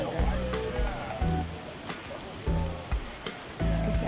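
Ocean waves wash onto a beach at Boracay in the Philippines, loud close rushes of surf recurring every second or so, with a voice talking over the water.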